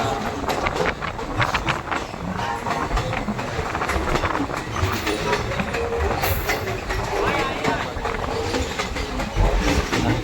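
A passenger train on the Silchar to Haflong hill line rumbles along the rails with continuous, loud, close clatter and wheel noise.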